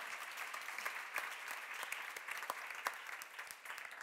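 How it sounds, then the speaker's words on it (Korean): A church congregation at a seminar of the Jesus Centered Church claps together, a faint, even patter of many hands with a few sharper claps standing out. "박수야"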